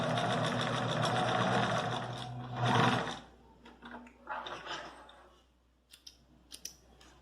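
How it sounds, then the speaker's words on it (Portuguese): Sewing machine stitching the front center seam of a pair of trousers, running as one steady, close whirring burst for about three seconds, then stopping, followed by scattered light clicks and fabric handling. "Fiz a primeira costura aqui"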